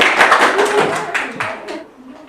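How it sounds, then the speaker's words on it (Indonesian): A classroom audience of students applauds a student group during an international trade lesson: a short burst of clapping, close and moderately loud, that fades out within about two seconds, with voices mixed in. "untuk kelompok 3 kita berikan aplaus"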